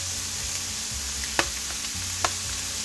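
Diced pork fries in a pan for special fried rice, giving a steady close sizzle with a couple of sharp utensil clicks against the pan.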